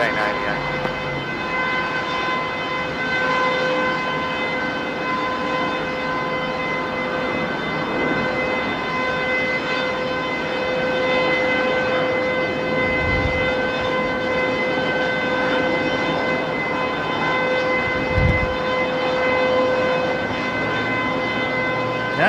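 Loud, steady siren-like drone with layered sustained tones near Melbourne Airport, running continuously without a break and dominating the scene, with low rumbles from aircraft activity underneath.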